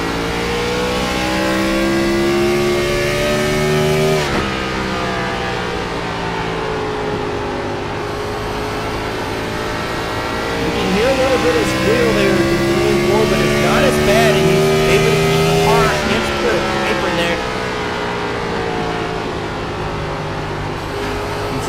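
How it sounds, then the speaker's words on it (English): Race car engine heard onboard at Richmond, a steady mid-pitched drone that rises and falls through the corners, with a broadcast commentator talking over it throughout. "Ride with Phipps and listen to his tire management"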